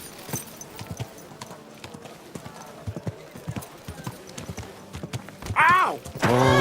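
Horse hooves clip-clop steadily on the ground in the Kingdom Come Deliverance 2 video game, a close rhythmic trot, with voices and a loud whinny-like call near the end.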